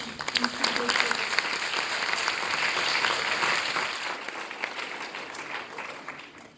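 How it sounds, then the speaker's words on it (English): An audience applauds Rotarians and Colombo YMCA members at an awards presentation for a Shakespeare competition boys' final, with steady dense clapping that holds for several seconds before easing off. "A big round of applause."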